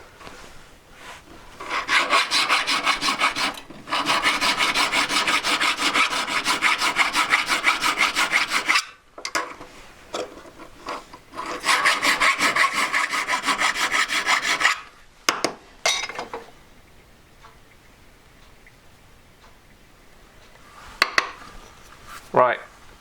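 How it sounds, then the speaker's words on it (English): A hand file rasps rapidly over a hard nickel ring made from a Montana 94 spray can cap, in long bursts of close, gritty strokes with brief pauses, ending in a few light taps and some quiet talk. "I can feel it like blunting my file"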